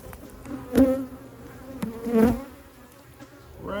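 Honey bees buzz close by during a spring beehive inspection, with a steady hum that swells in two louder passes as bees fly near, then eases back to a lower drone.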